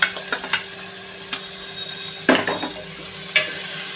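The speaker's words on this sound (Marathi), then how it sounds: "टोमॅटो छान असा मऊ होईपर्यंत परतून घ्यायचा आहे" Tomatoes sautéing in a pan with ginger-garlic paste for a chana dal and bottle gourd dish, giving a soft steady sizzle broken by a few sharp stirring clinks and scrapes, close and fairly quiet, with no talking.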